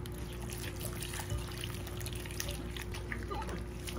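Water trickles and splashes softly as radish and carrots are rinsed for pickling, a quiet steady flow under a low background hum.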